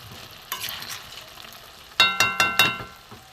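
Ghee hits a hot pan of Gobindobhog rice cooked with young jackfruit and sizzles, then a spoon stirs it with four sharp scraping strokes in quick succession, near and clear, with no talking.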